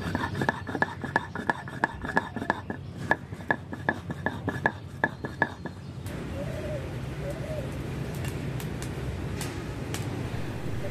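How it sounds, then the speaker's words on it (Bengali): Radhuni seeds and ginger are ground into a paste by hand, with a rapid, regular knocking that stops partway through, while birds coo and chirp in the background. "তো রাঁধুনি আর আদাটাকে ভালো করে বেটে নিচ্ছি।"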